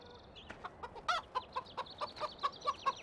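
Chickens clucking inside the Farming Simulator video game, a series of short, separate clucks and soft calls that repeat in an irregular rhythm at moderate volume, with no talking.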